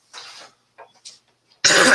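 A person coughs, a few short throaty bursts and a soft clearing sound, then one loud harsh cough at the end, close to the microphone.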